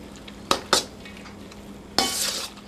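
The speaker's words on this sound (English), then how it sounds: "I'm going to stir this a little bit until everything gets nice and creamy" Creamy macaroni and cheese with melting Velveeta being stirred in a pot, giving two quick scraping knocks followed by a longer soft swishing scrape, close and fairly quiet with no talk.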